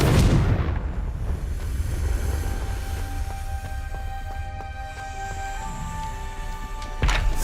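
A Confringo fire spell bursts in a heavy, booming explosion at the start of a Hogwarts Legacy scene, then fades into a rumbling game ambience with sustained tones before a sharp burst near the end.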